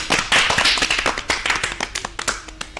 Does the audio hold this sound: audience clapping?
yes